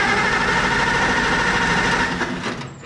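Tractor engine idling steadily just after starting, a continuous close mechanical hum and rattle that fades and trails off near the end.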